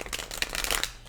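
A deck of tarot cards is shuffled, giving a quick close run of papery riffles and flicks lasting about a second.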